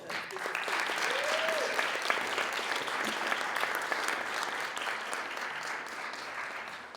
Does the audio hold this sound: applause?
yes